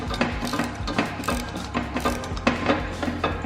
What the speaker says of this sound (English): I can grab my ratchet and my Allen key here, and I'm just going to start working them together